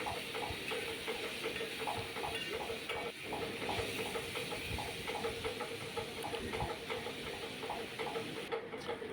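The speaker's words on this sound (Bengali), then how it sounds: "সুন্দর করে নেড়ে চেড়ে ভালোভাবে কষিয়ে নেব" Marinated chicken pieces for restaurant-style chicken chow mein are stirred and fried in a pan, giving a steady, continuous sizzle with scraping stir sounds throughout, close and moderately loud, with no talking.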